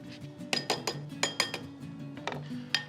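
A spoon stirs a vanilla seed and orange zest mixture in a bowl, giving a quick run of bright clinks and taps against the side, close and fairly loud, with no talking.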